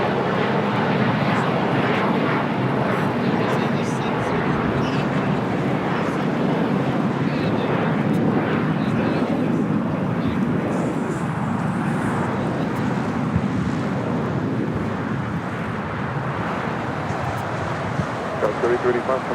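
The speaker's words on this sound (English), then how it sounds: "Next takeoff on the south side on 25 right is KLM, flight 604, 787-9 Dreamliner heading back to Amsterdam" A KLM Boeing 787-9 Dreamliner takes off from runway 25 right at LAX, a steady, loud broadband jet roar that holds for the full stretch, with voices heard over it.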